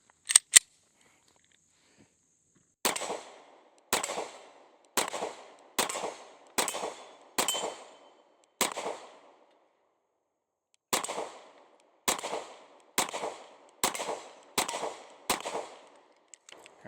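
Shots from a Smith & Wesson Shield X pistol fired downrange, sharp loud cracks in a quick volley: two early shots, a pause, then a string of about eight evenly spaced shots, another pause and a further run of roughly eight.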